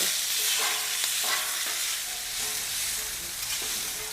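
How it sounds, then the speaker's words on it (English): Sausage frying on a Blackstone griddle while spatulas break it up, a constant loud sizzle with scattered scraping and tapping strokes, close and without speech. "We're just going to kind of cook this on the griddle and use the spatulas to break up the sausage a little bit."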